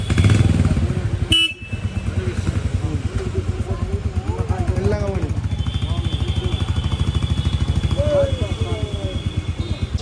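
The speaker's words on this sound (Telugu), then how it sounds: "Royal Enfield is known for it sound, no bullet sound." A Royal Enfield Bullet motorcycle engine thumps steadily in a loud, close, continuous rhythm, with brief horn-like tones and some background voices.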